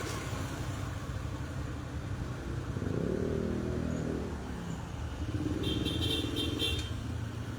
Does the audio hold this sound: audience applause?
no